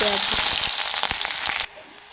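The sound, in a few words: onions frying in oil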